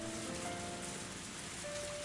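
Steady rain pours down as a dense, even hiss of drops on surfaces, continuous and fairly close, with no voices.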